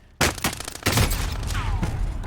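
A burst-fire gun shoots in a video game, quick loud bursts of cracking shots close up with a ringing tail after them.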